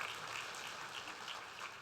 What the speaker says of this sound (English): Can we have one more round of applause for all the amazing talent we have in EPISD?